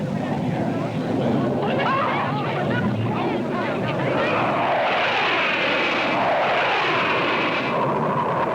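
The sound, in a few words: Blue Angels jet aircraft flying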